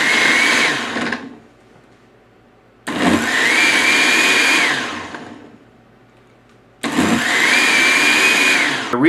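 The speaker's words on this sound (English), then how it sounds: "it's going to vary the speed of the blender high to low for 60 seconds and then turn itself off automatically" A kitchen blender on a combo blend cycle runs in three loud bursts of whirring motor noise, each revving and then cutting off into near silence before starting again.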